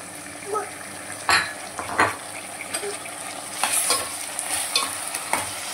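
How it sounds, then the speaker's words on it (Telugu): Chicken is tipped onto softened onions in a pan for a Tamil Nadu style chicken pulusu and stirred, with a sizzle under repeated scraping and clanking of a spoon against the metal pan. "ఇప్పుడు ఉల్లిగడ్డ మగ్గింది కదా, ఇప్పుడు మనం చికెన్ వేసేసుకుందాం"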